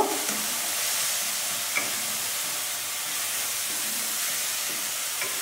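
A paste of poppy seed, melon seed and cashew frying in a pan for malai begun, with a steady loud sizzle and hiss and occasional stirring scrapes throughout.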